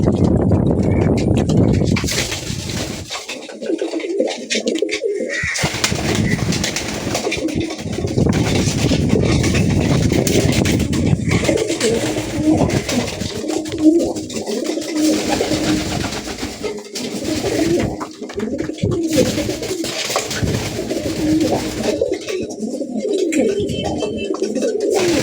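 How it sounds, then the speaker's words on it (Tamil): Pigeons in a pigeon house coo and flutter continuously, close and fairly loud, with a dense, busy wash of bird calls throughout. "எல்லாம் புறா வாஷ் பண்ணி உள்ளே விட்டுட்டோம்."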